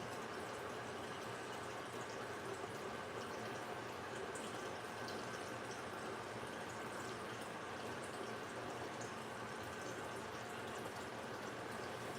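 Water runs steadily from a tap into a cooking pot, a soft continuous splashing fill with no break, heard alone at low level.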